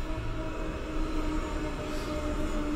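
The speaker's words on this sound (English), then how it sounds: "We have a train going by our studio right now" A train passing by a studio, a steady low rumble with a faint hum and rolling wagon noise that continues throughout, fairly distant, with no voices.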